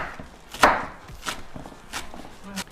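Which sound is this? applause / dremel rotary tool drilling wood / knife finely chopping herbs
knife finely chopping herbs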